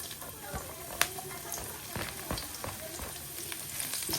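Garlic and onion sautéing in a pan for sinampalukang manok, a Filipino chicken dish, giving a steady close sizzle with scattered pops and crackles and one sharper snap partway through.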